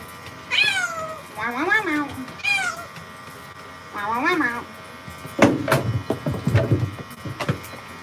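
A Himalayan cat gives a series of drawn-out, rising meows while being bathed by a groomer, loud and close, with several separate cries followed by splashing and handling noises near the end.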